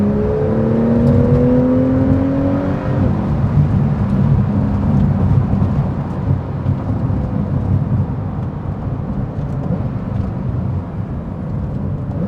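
A 2018 Porsche 911 Carrera S accelerates hard from around 40 mph, its engine note climbing steadily in pitch before a shift, then holding a loud, continuous roar with road and wind rush, close and unbroken.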